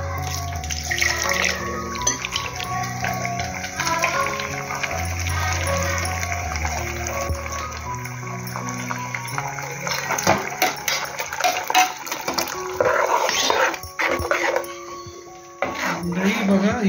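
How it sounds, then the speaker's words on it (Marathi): Water poured and splashing while a cooking pot is rinsed in a kitchen, running and sloshing near the mic, with a voice talking over it and a dog briefly audible. "थोडंसं अजून पाणी घालणार आहे. हे भांडच धुवून घेणार आम्ही."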